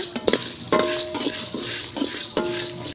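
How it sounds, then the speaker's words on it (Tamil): Fenugreek, garlic and curry leaves roast in oil in a pan with dried red chillies and cumin for a wedding-style sambar paste. A loud, steady sizzle runs throughout, broken by rhythmic scraping strokes of a stirring spoon. "வெந்தயம் பூண்டு கருவேப்பிலை இப்போ நல்லா வறுத்து"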